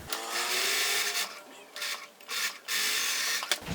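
A sewing machine stitches a 5/8 inch seam on shirt fabric in several bursts of fast, whirring needle motion, separated by short pauses, close and fairly loud.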